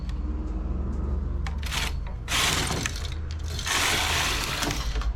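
A knitting machine working two rows in two colours, the carriage sliding across with loud rushing swishes and clicking needle clatter in two passes, separated by quieter mechanical ticks.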